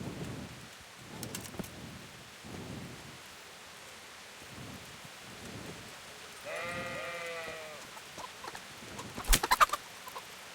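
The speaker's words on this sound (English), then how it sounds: "Okay, chicken." Chickens cluck briefly in the Kingdom Come: Deliverance video game, a short burst of bird calls midway, with faint rain and thunder-like ambience underneath and sharp clatter near the end.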